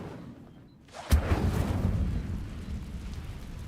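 A fire spell bursts out in the Hogwarts Legacy video game: a sharp loud onset, then a sustained roaring, crackling rumble that carries on steadily to the end.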